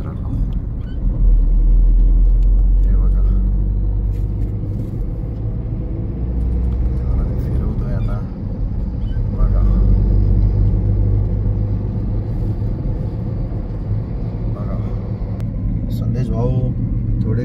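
A car rolling slowly through town traffic in Khopoli, with a steady low engine and road rumble from inside the cabin and voices talking over it.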